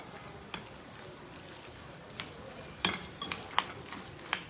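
Thai fishcake paste being mixed in a bowl after sugar is added, soft squishing with a few sharp utensil clicks and taps against the bowl, sparse and fairly quiet.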